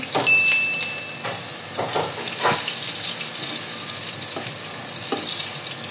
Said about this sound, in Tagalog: Kapag mainit na ang ating kawali, lagay natin ang ating bawang.